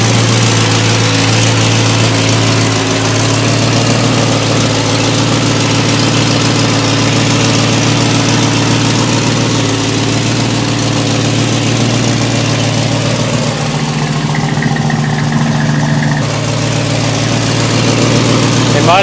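Ford F100 pickup with a 351 Cleveland V8 idling on petrol, a loud, steady low throb with the ragged puffing of a bad exhaust leak, faint talk in the background.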